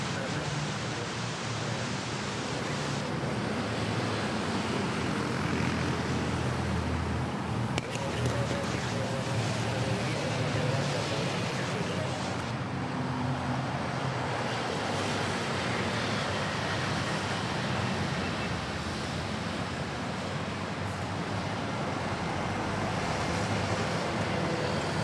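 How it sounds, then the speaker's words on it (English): A Boeing 787 Dreamliner takes off at Manila Airport, a steady, dense jet roar filling the whole clip with a low rumble underneath and no clear breaks. "Takeoff of the Dreamliner."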